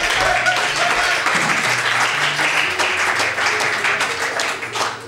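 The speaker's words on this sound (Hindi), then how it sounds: "तालियां" Audience clapping and applauding at an open mic poetry event, a dense, sustained burst of many hands that gradually thins toward the end, with some voices faintly underneath.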